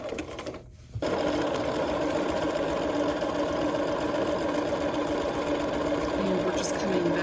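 A sewing machine running a permanent stitch along a shirt front band, briefly pausing near the start, then whirring steadily and loudly at an even, rapid pace to the end.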